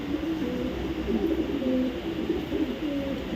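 A red check racing pigeon coos in soft, repeated low throaty phrases, heard close and alone against a faint background hiss.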